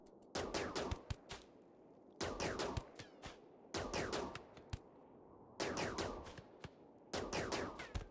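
Gunfire in a shootout in the video game Rimworld, with repeated bursts of sharp shots in clusters and short gaps between them, fairly faint overall with crisp cracks.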